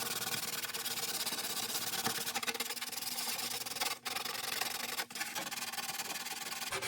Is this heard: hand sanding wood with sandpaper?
yes